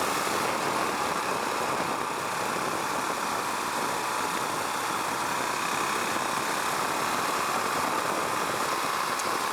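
Husqvarna Vitpilen 701 motorcycle engine under way, a loud continuous roar mixed with strong wind rush close to the rider, steady throughout with no talk.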